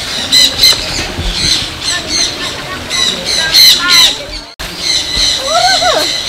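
Birds squawking at Malacca Zoo, harsh repeated calls close by with a few brief sweeping cries near the end, over a murmur of visitor chatter.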